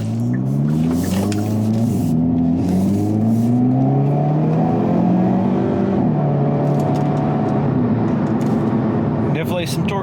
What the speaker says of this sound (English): This is a front-wheel drive vehicle and it shifts nice and hard.